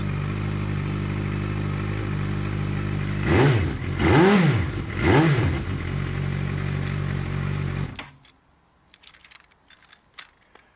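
A Suzuki GSX650F motorcycle engine running steadily, with three swelling revs in the middle before it cuts off abruptly, leaving faint clicks and quiet.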